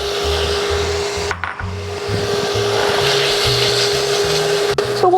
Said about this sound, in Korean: 아까 잘 재워두었던 소고기를 볶아주도록 하겠습니다.